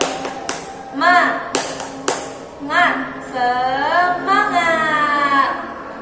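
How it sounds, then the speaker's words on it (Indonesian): A primary school class does a rhythmic spirit clap in unison, several sharp clap bursts in a patterned rhythm, with children's voices chanting and shouting along in between. "mari kita tepuk semangat"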